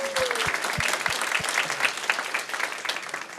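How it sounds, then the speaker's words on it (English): An audience at a talk on technology behind city council programs breaks into applause, a steady crowd clapping with a few louder individual claps and a faint voice underneath. "I will still ask you to give her a round of applause"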